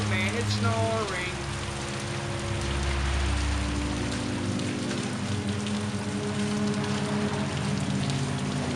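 Continuous rain patters steadily over a low hum, with faint tonal sounds and a brief swooping tone early on, from a Yu-Gi-Oh anime episode.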